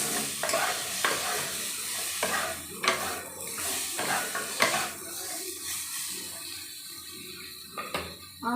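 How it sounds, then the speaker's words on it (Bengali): Vegetable mung dal with winter vegetables and turmeric being stirred in a pan, with close, repeated scraping strokes over a steady sizzle and occasional clinks of utensil against the pot. "আমি সমস্ত কিছুকে ভালো করে মিশিয়ে নেব"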